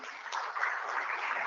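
A conference audience at the AfNOG 2022 internet summit gives a speaker a brief round of steady applause. It sounds muffled and somewhat distant, with no talking.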